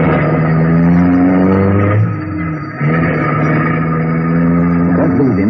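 An old car engine drones loudly and steadily as the car pulls away in pursuit, pitch rising with a brief dip before the engine resumes its strong, close hum, a staged sound effect.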